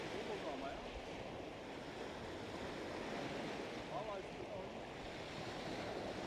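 Sea waves wash against the shore at a fishing spot, a constant close surf roar mixed with wind buffeting the microphone, steady and fairly loud, with faint voices underneath.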